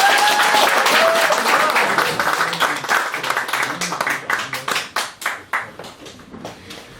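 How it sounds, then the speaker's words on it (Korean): Loud audience applause welcoming a singer at a live event, a dense burst of clapping that thins into scattered individual claps and fades out. "다시 한번 박수 주시죠"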